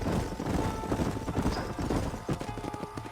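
Horses gallop in a steady clip-clop of hooves in the Red Dead Redemption video game, with a whinny breaking through, over a busy outdoor mix and a faint voice.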